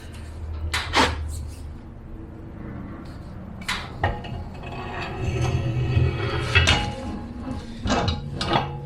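An axle shaft slides into a Ford 8.8 rear axle housing with 9-inch ends, giving a few sharp metallic clunks and scrapes among quieter shop rustling, close by with no talk.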